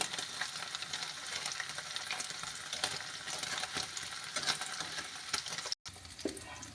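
Paneer frying in a hot pan sizzles steadily and densely throughout, close and fairly loud, with crackling spatters and a brief dropout near the end.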